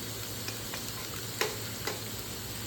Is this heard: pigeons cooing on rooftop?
no